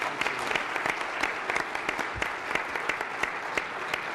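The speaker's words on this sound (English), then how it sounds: "I suppose we should applaud her now." An audience at a school district board meeting claps for a student musician, a scattered, fairly light round of applause with individual claps standing out, moderately distant in a room.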